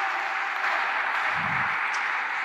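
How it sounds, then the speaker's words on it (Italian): A crowd applauds the mayor at the presentation of Lucca's new Porta Elisa stadium, an even wash of clapping with a brief low rumble midway. "Un applauso al nostro sindaco."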